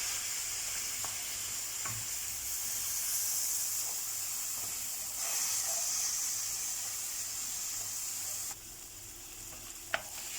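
Bulgur toasting and being stirred in a pan over sautéed ingredients for a Turkish meyhane pilaf, giving a steady close sizzle with soft scraping stirs and a sharp utensil knock near the end.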